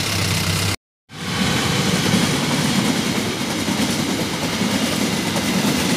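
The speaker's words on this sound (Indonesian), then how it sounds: "jadi barusan dadaan ada kereta api Ranggajati." The Ranggajati passenger train speeding past the old Maguwo station, a loud close roar of rail cars and wheel clatter that continues steadily after a short cut of silence near the start.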